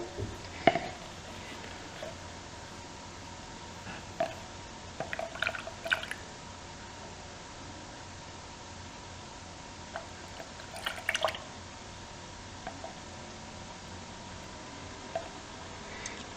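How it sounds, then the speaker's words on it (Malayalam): Soapnuts being crushed by hand in water to work up a lather: quiet, sporadic squishing and dripping sounds in short bursts with pauses, close by and faint. "കൂടുതൽ കൂടുതൽ ചതച്ചാൽ അതിനനുസരിച്ച് കൂടുതലും പതയുണ്ടാവും"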